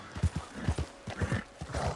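A horse in the Red Dead Redemption video game clip-clops along in a steady, close rhythm of hoofbeats, with soft snorts mixed in and no talking.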